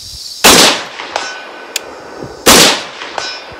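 Two loud, sharp rifle shots from a Springfield Saint Victor .308, about two seconds apart, each with a booming decaying tail and lighter metallic clangs of steel targets between them, heard outdoors at a range.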